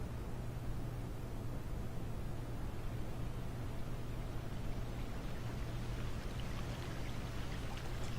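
Water drinking in The Forest VR, a steady pouring, trickling wash of water that runs continuously and evenly at close range, with no talking over it.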